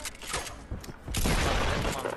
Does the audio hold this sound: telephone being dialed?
no